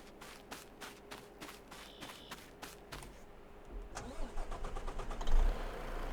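A Volvo truck engine in Farming Simulator 22 idles with a low steady hum beneath a series of evenly spaced clicks, then rumbles louder as it revs up near the end.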